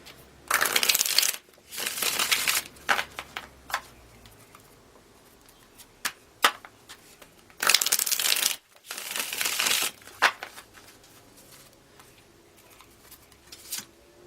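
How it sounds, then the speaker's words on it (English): A deck of tarot cards being shuffled by hand in repeated bursts of riffling and flapping, each lasting about a second, with short pauses and soft taps between them and no talking. "A couple more shuffles."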